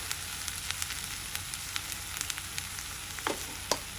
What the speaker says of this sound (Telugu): వీటన్నిటిని 2 నిమిషాలు వేగనివ్వండి